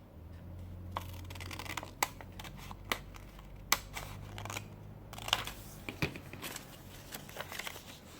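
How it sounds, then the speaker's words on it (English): Scissors snip through junk journal paper pieces, cutting them in half with a run of quick, crisp snips and paper rustle, close and quiet, no voices. "So then we'll cut them in half"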